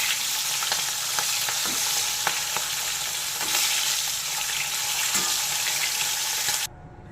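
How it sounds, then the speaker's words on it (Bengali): Turned hilsa fish pieces frying in hot oil give a loud, continuous close sizzle with a few soft clicks and pops, cutting off abruptly near the end. "মাছগুলো উল্টে নিচ্ছি।"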